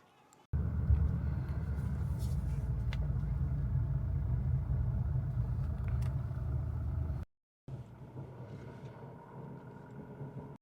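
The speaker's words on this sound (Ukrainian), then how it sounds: "Роблю тест-драй на Mazda. Mazda CX5 для клієнта." A Mazda CX-5 on a test drive, heard as a steady low engine and road rumble from inside the cabin, fairly quiet, with a brief dropout near the end before the drone resumes.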